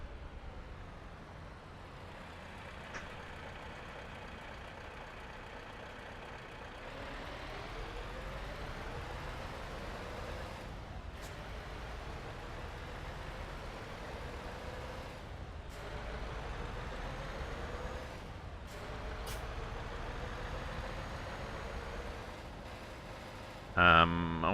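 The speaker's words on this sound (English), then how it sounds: "I love these farty little trucks." Small truck engines in Euro Truck Simulator 2 give a steady low drone with rising and falling gear sweeps, mid-level and continuous, ending in a brief louder burst.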